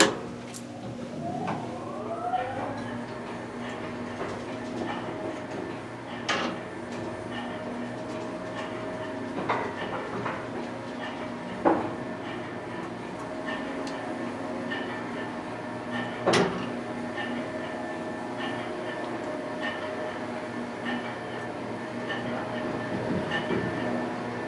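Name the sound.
antique traction elevator running down to basement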